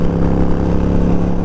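Harley-Davidson Sportster motorcycle engine running steadily while riding, a loud, continuous low droning rumble close to the microphone with no noticeable rise or fall.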